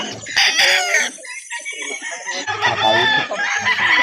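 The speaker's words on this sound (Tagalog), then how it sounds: "Ayan, may mga dumating na mga manok." Chickens and roosters at a poultry market in Calauan, Laguna, fill the air with loud, close crowing and dense overlapping clucks and squawks that carry on without pause.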